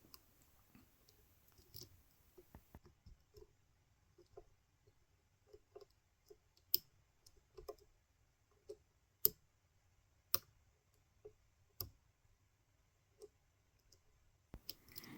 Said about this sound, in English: I got a tiny click out of one of the back pins